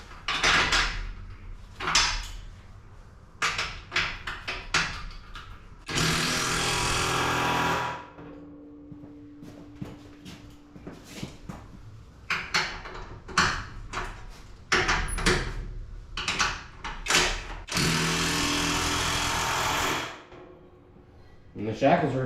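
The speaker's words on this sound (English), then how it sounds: "So, we just need to snug down these bottom ones." Wrench snugging suspension bolts under a 1987 Dodge D100 pickup, with scattered clanks, clicks and ratcheting bursts, some longer sustained noisy stretches, and a person talking in between.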